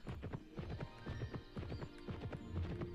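A horse in the video game Petz Horsez 2 rears and neighs after finishing a race, a clear whinny over rapid clip-clop hoofbeats, close and moderately loud.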